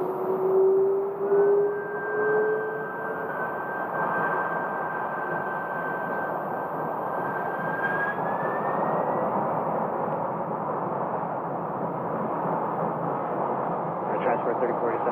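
A jet airliner takes off at Phoenix airport, a continuous broad roar with a rising whine, heard from a distance at a terminal and holding steady throughout.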